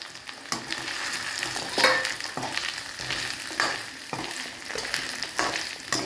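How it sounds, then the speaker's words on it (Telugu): Deep-fried taro pieces frying and being stirred in an onion-ginger masala in a pan, with steady close sizzling and scraping stirs recurring at intervals, no voices. "ఈ చామగడ్డ డీప్ ఫ్రై చేసిన పీసెస్ను ఇందులో వేసుకోవాలండి. వేసుకొని కొంచెంసేపు మగ్గించాలి."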